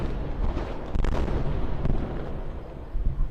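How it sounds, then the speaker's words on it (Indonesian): Deep booming explosions roll over one another during an Iranian missile attack on Tel Aviv, a dense, loud, continuous rumble with heavier blasts near the middle and end. "Suara ledakan juga terdengar di penjuru kota Tel Aviv dan Yerusalem."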